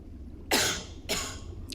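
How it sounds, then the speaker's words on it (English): Two sharp, breathy coughs come close together, followed by a fainter third at the end, all close up against a quiet background. "The cough"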